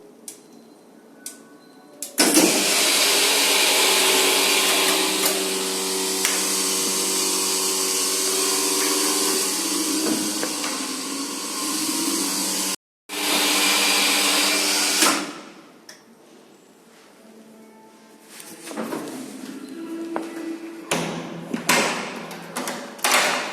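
A hydraulic lift pump with LCE logic whirs loudly and steadily in a motor room for about thirteen seconds, stops for an instant, runs on, then winds down to quieter clicks and mechanical rattles.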